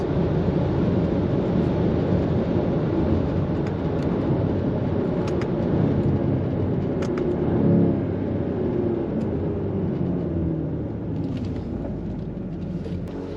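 A Jaguar F-Type launches down the Santa Pod drag strip, its engine a loud, sustained roar heard from inside the car, holding steady before easing slightly toward the end, with no talk.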